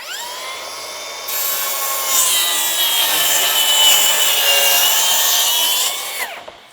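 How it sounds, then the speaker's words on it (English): A power saw rips a bevel along a wooden board in a garage workshop, a loud, steady whirring cut that grows harsher midway and then winds down as the blade clears the wood. "we just ripped this last piece here with a bevel on it"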